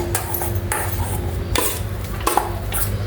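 Ingredients for cheese potato nuggets, including garlic fried brown in butter, are stirred and mixed together, giving repeated scraping, churning strokes in a steady rhythm, close and fairly loud, with no talking.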